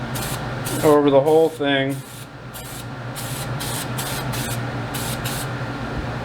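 Foam filter oil hisses from an aerosol can onto a KLR 650 air filter in several short, close bursts, one under a brief spoken remark and the rest alone.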